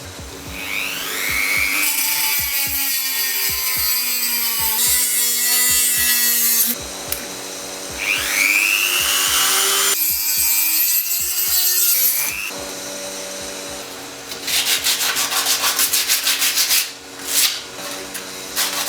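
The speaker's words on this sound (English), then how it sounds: "Best to also use a heavy-duty cut-off wheel." A heavy-duty cut-off wheel slices through a PCB in loud, whining, grinding passes, each stroke rising and falling in pitch, with brief gaps between cuts and a harsher rattling stretch near the end.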